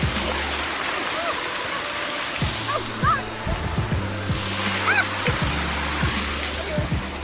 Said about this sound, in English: at the inlet to Imogene Lake is a sweet little waterfall coming out of Mushroom Lake.